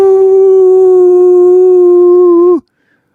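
A person imitates a dog howl with one loud, close, steady sustained tone that drops off abruptly at the end, followed by silence.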